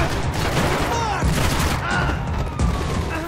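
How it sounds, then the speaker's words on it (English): Bursts of gunfire ring out in the Max Payne 3 shooter, rapid shots and booms layered over a dense, busy game soundtrack with swelling tones, loud and continuous throughout. "Gunfire over Hoboken."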